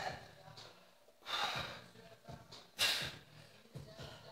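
Heavy breathing during a medicine ball workout circuit: repeated loud gasping inhales and exhales, close and breathy, with a couple of sharper bursts.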